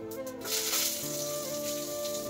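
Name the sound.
pointed gourd (potol) frying in oil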